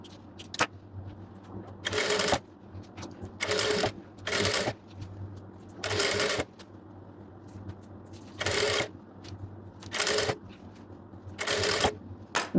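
A sewing machine stitches two overlapping fabric edges of a strip together in six short, loud bursts separated by pauses, with a steady low hum underneath.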